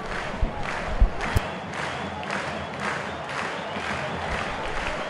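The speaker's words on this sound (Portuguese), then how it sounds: "Aplausos do torcedor do Londrina" Londrina supporters in a football stadium during a Paraná state championship match against Maringá applaud and cheer, a broad, rolling crowd roar with swelling pulses of noise and a few sharp thumps.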